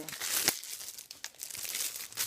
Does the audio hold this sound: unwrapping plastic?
yes